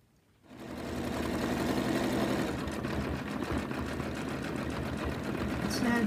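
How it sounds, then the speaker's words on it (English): An embroidery sewing machine stitching out lettering runs in a steady, fast mechanical whir with rapid needle clatter, starting up after a brief quiet moment and continuing evenly. "It's now just stitching out Lottie"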